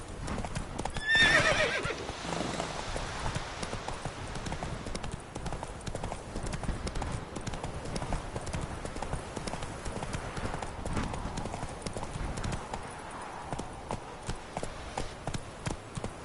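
Roach the horse galloping in The Witcher 3, steady clip-clop of hooves running throughout with a brief neigh near the start, loud and close.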